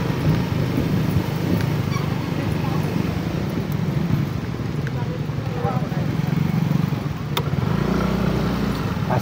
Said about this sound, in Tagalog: Pero ipapasok natin yung motor natin kasi medyo delikado dito eh.